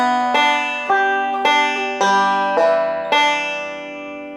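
Plucked banjo notes in a Scruggs-style forward-backward roll ring out in a steady series of bright, sustained attacks, roughly every half second, played alone without speech.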